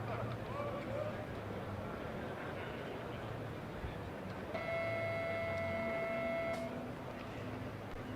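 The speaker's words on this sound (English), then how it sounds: "Hear a nice beeping sound from the car from Prague, which means it's ready." A driverless Formula Student race car at a track event gives a steady electronic beep tone lasting about two seconds, under crowd noise and ongoing commentary.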